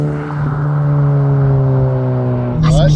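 A Honda Civic Type R FL5 engine holds a steady, droning hum inside the cabin, then a quick throttle blip rises in pitch near the end, with a voice speaking over it.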